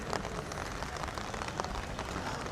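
Heavy rain pours steadily over the outer garden of Nallur temple, a dense continuous hiss of drops striking surfaces, fairly close and even in level with no voices.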